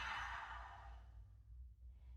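An ujjayi exhale breathed out through an open mouth, as if fogging a mirror, during yoga practice: one long, close, breathy sigh that fades over about a second, leaving quiet low hum.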